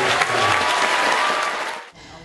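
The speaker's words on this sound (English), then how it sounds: "give them a big round of applause." A crowd applauds with dense, steady clapping that fades out abruptly after about two seconds, with a voice briefly audible beneath it.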